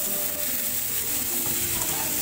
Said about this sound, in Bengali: এই দেখো শাকগুলো দিয়ে দিলাম কড়াতে। এবার এগুলো ভালোভাবে নেড়ে ভেজে